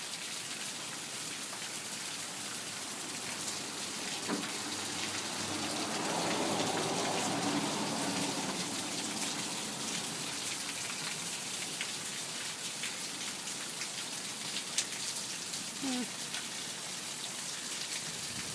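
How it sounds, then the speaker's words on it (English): Rain dripping off a roof during a July thunderstorm, a steady wash of patter and drops close by, with a brief swell midway and no talk. "There's the rain dripping down off the roof."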